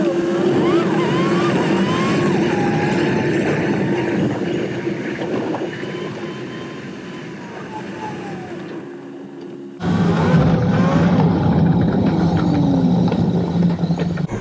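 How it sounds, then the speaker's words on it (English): A car drives through a rural Japanese town, its steady engine and road rumble continuous and close throughout, with a brief dip before the sound resumes at full level. "let's go ahead and drive through the town here, and you see what I'm talking about"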